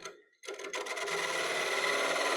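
A plain high-speed steel half-inch Robert Sorby spindle gouge cuts wood on a lathe, starting with a brief tap and then settling into a continuous, even scraping rasp at close range.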